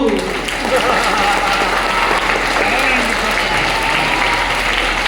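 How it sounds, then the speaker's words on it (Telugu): An audience claps steadily throughout at a Gita Jayanti celebration, a dense continuous wash of applause from a crowd with a voice briefly heard at the start. "నువ్వు చప్పట్లు కొట్టు."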